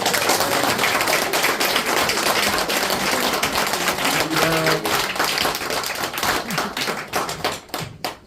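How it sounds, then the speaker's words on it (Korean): Dense, steady applause from an audience at a church installation service for a revival association's new president, during a cash gift presentation. It stays loud and even for most of the stretch, thins near the end, and a short spoken phrase follows. "금일봉 전달식 할 때 박수를 좀 세게 좀 쳐주세요."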